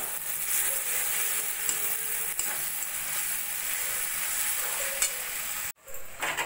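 Spice masala for chana masala being sautéed in a pan, a dense continuous sizzle with faint occasional stirring, close and steady until it cuts out abruptly near the end and briefly resumes.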